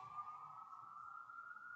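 An emergency siren holds one steady, fairly faint tone, continuous and unbroken, with no talk over it.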